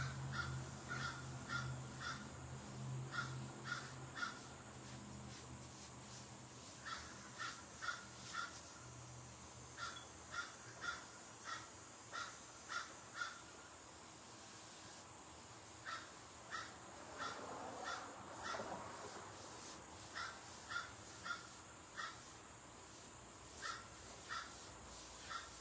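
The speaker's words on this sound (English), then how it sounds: "hear them crows hollering" Crows cawing outdoors in repeated harsh bursts, several calls in a row with pauses between, moderately distant over a steady background hum, no talking.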